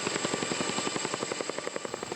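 A firefighting helicopter ferrying water to a mountain wildfire, its rotor beating in a steady, rapid thump that is fairly faint and continuous, with no talk over it.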